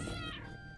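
A cat meows once in the Cozy Keep video game, a short, clear, moderately quiet call standing alone without talk.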